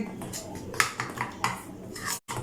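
A utensil clinks and scrapes against a pot as maida flour is stirred into melted ghee for kachori dough, giving a few sharp taps and scrapes close by with no talking.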